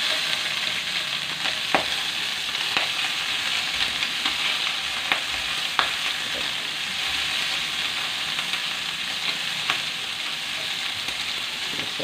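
Chopped onion sizzles steadily in hot oil for pakbet, a close and constant frying hiss broken by a few sharp pops and the light scrape of stirring.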